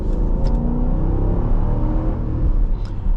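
A Dodge Durango GT Plus SUV with a 5.7 liter V8 pulls hard under throttle, giving a steady, loud engine drone heard from inside the cabin, with a couple of faint clicks.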